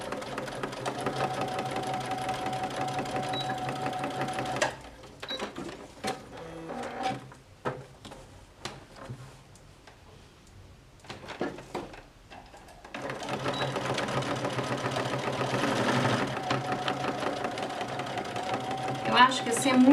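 Sewing machine backstitching while stitching a fabric necessaire box, running in steady bursts at the start and end with a quieter pause between, and a voice talking over it.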